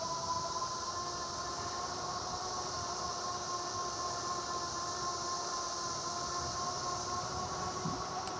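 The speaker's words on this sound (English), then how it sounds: "This has the typical motor whine that you hear." A Haoqi Camel cargo e-bike motor gives a steady, fairly quiet high whine over constant rolling road and wind noise while riding, unbroken from start to finish with no talking.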